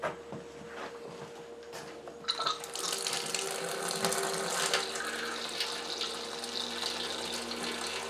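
Water for pumpkin ale brewing is sparged over grain, beginning with quiet clicks and handling noise before a steady rushing pour starts partway through and keeps going at a moderate level.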